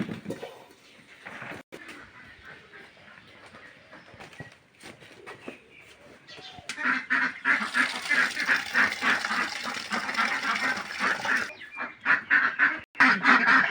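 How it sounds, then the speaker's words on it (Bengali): Ducks and chickens kept at a village home break into loud, overlapping honking quacks partway through, a dense close flock chorus following quieter rustling and scattered clucks. "এখন আমি ছেড়ে দেবো হাঁস মুরগিগুলা"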